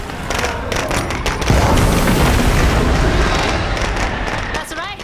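A sustained, loud explosion roars through a State of Decay 2 game scene, a broad rumbling boom that swells around the middle and trails off, with a voice audible near the end.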